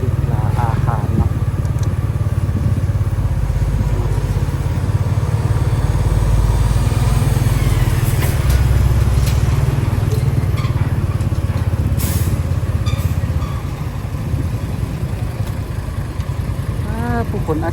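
A motorcycle rides through the lanes around Sang Jiang market, its engine droning steadily and close under continuous street noise, with people talking throughout.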